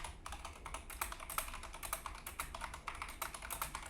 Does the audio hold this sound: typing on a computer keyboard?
yes